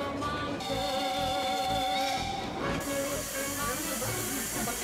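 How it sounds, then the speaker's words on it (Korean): Loud, continuous steam hissing fills the air, with a drawn-out, slightly wavering steam train whistle running through it as the train arrives at a station in Romania. "조금은 지친 듯한 기적 소리와 함께 기차는 반환점인 팔틴역에 도착한다."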